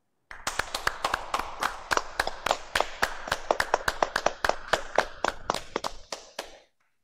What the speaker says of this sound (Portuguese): Peço uma salva de palmas para todos os homenageados.